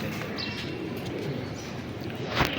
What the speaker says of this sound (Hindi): ये बड़ा लाडला कबूतर है